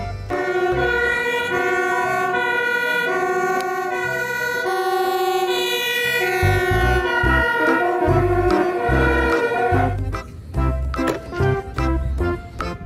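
A toy fire truck's electronic siren wails continuously at close range, a loud, buzzy up-and-down tone with a clattering toy rattle near the end.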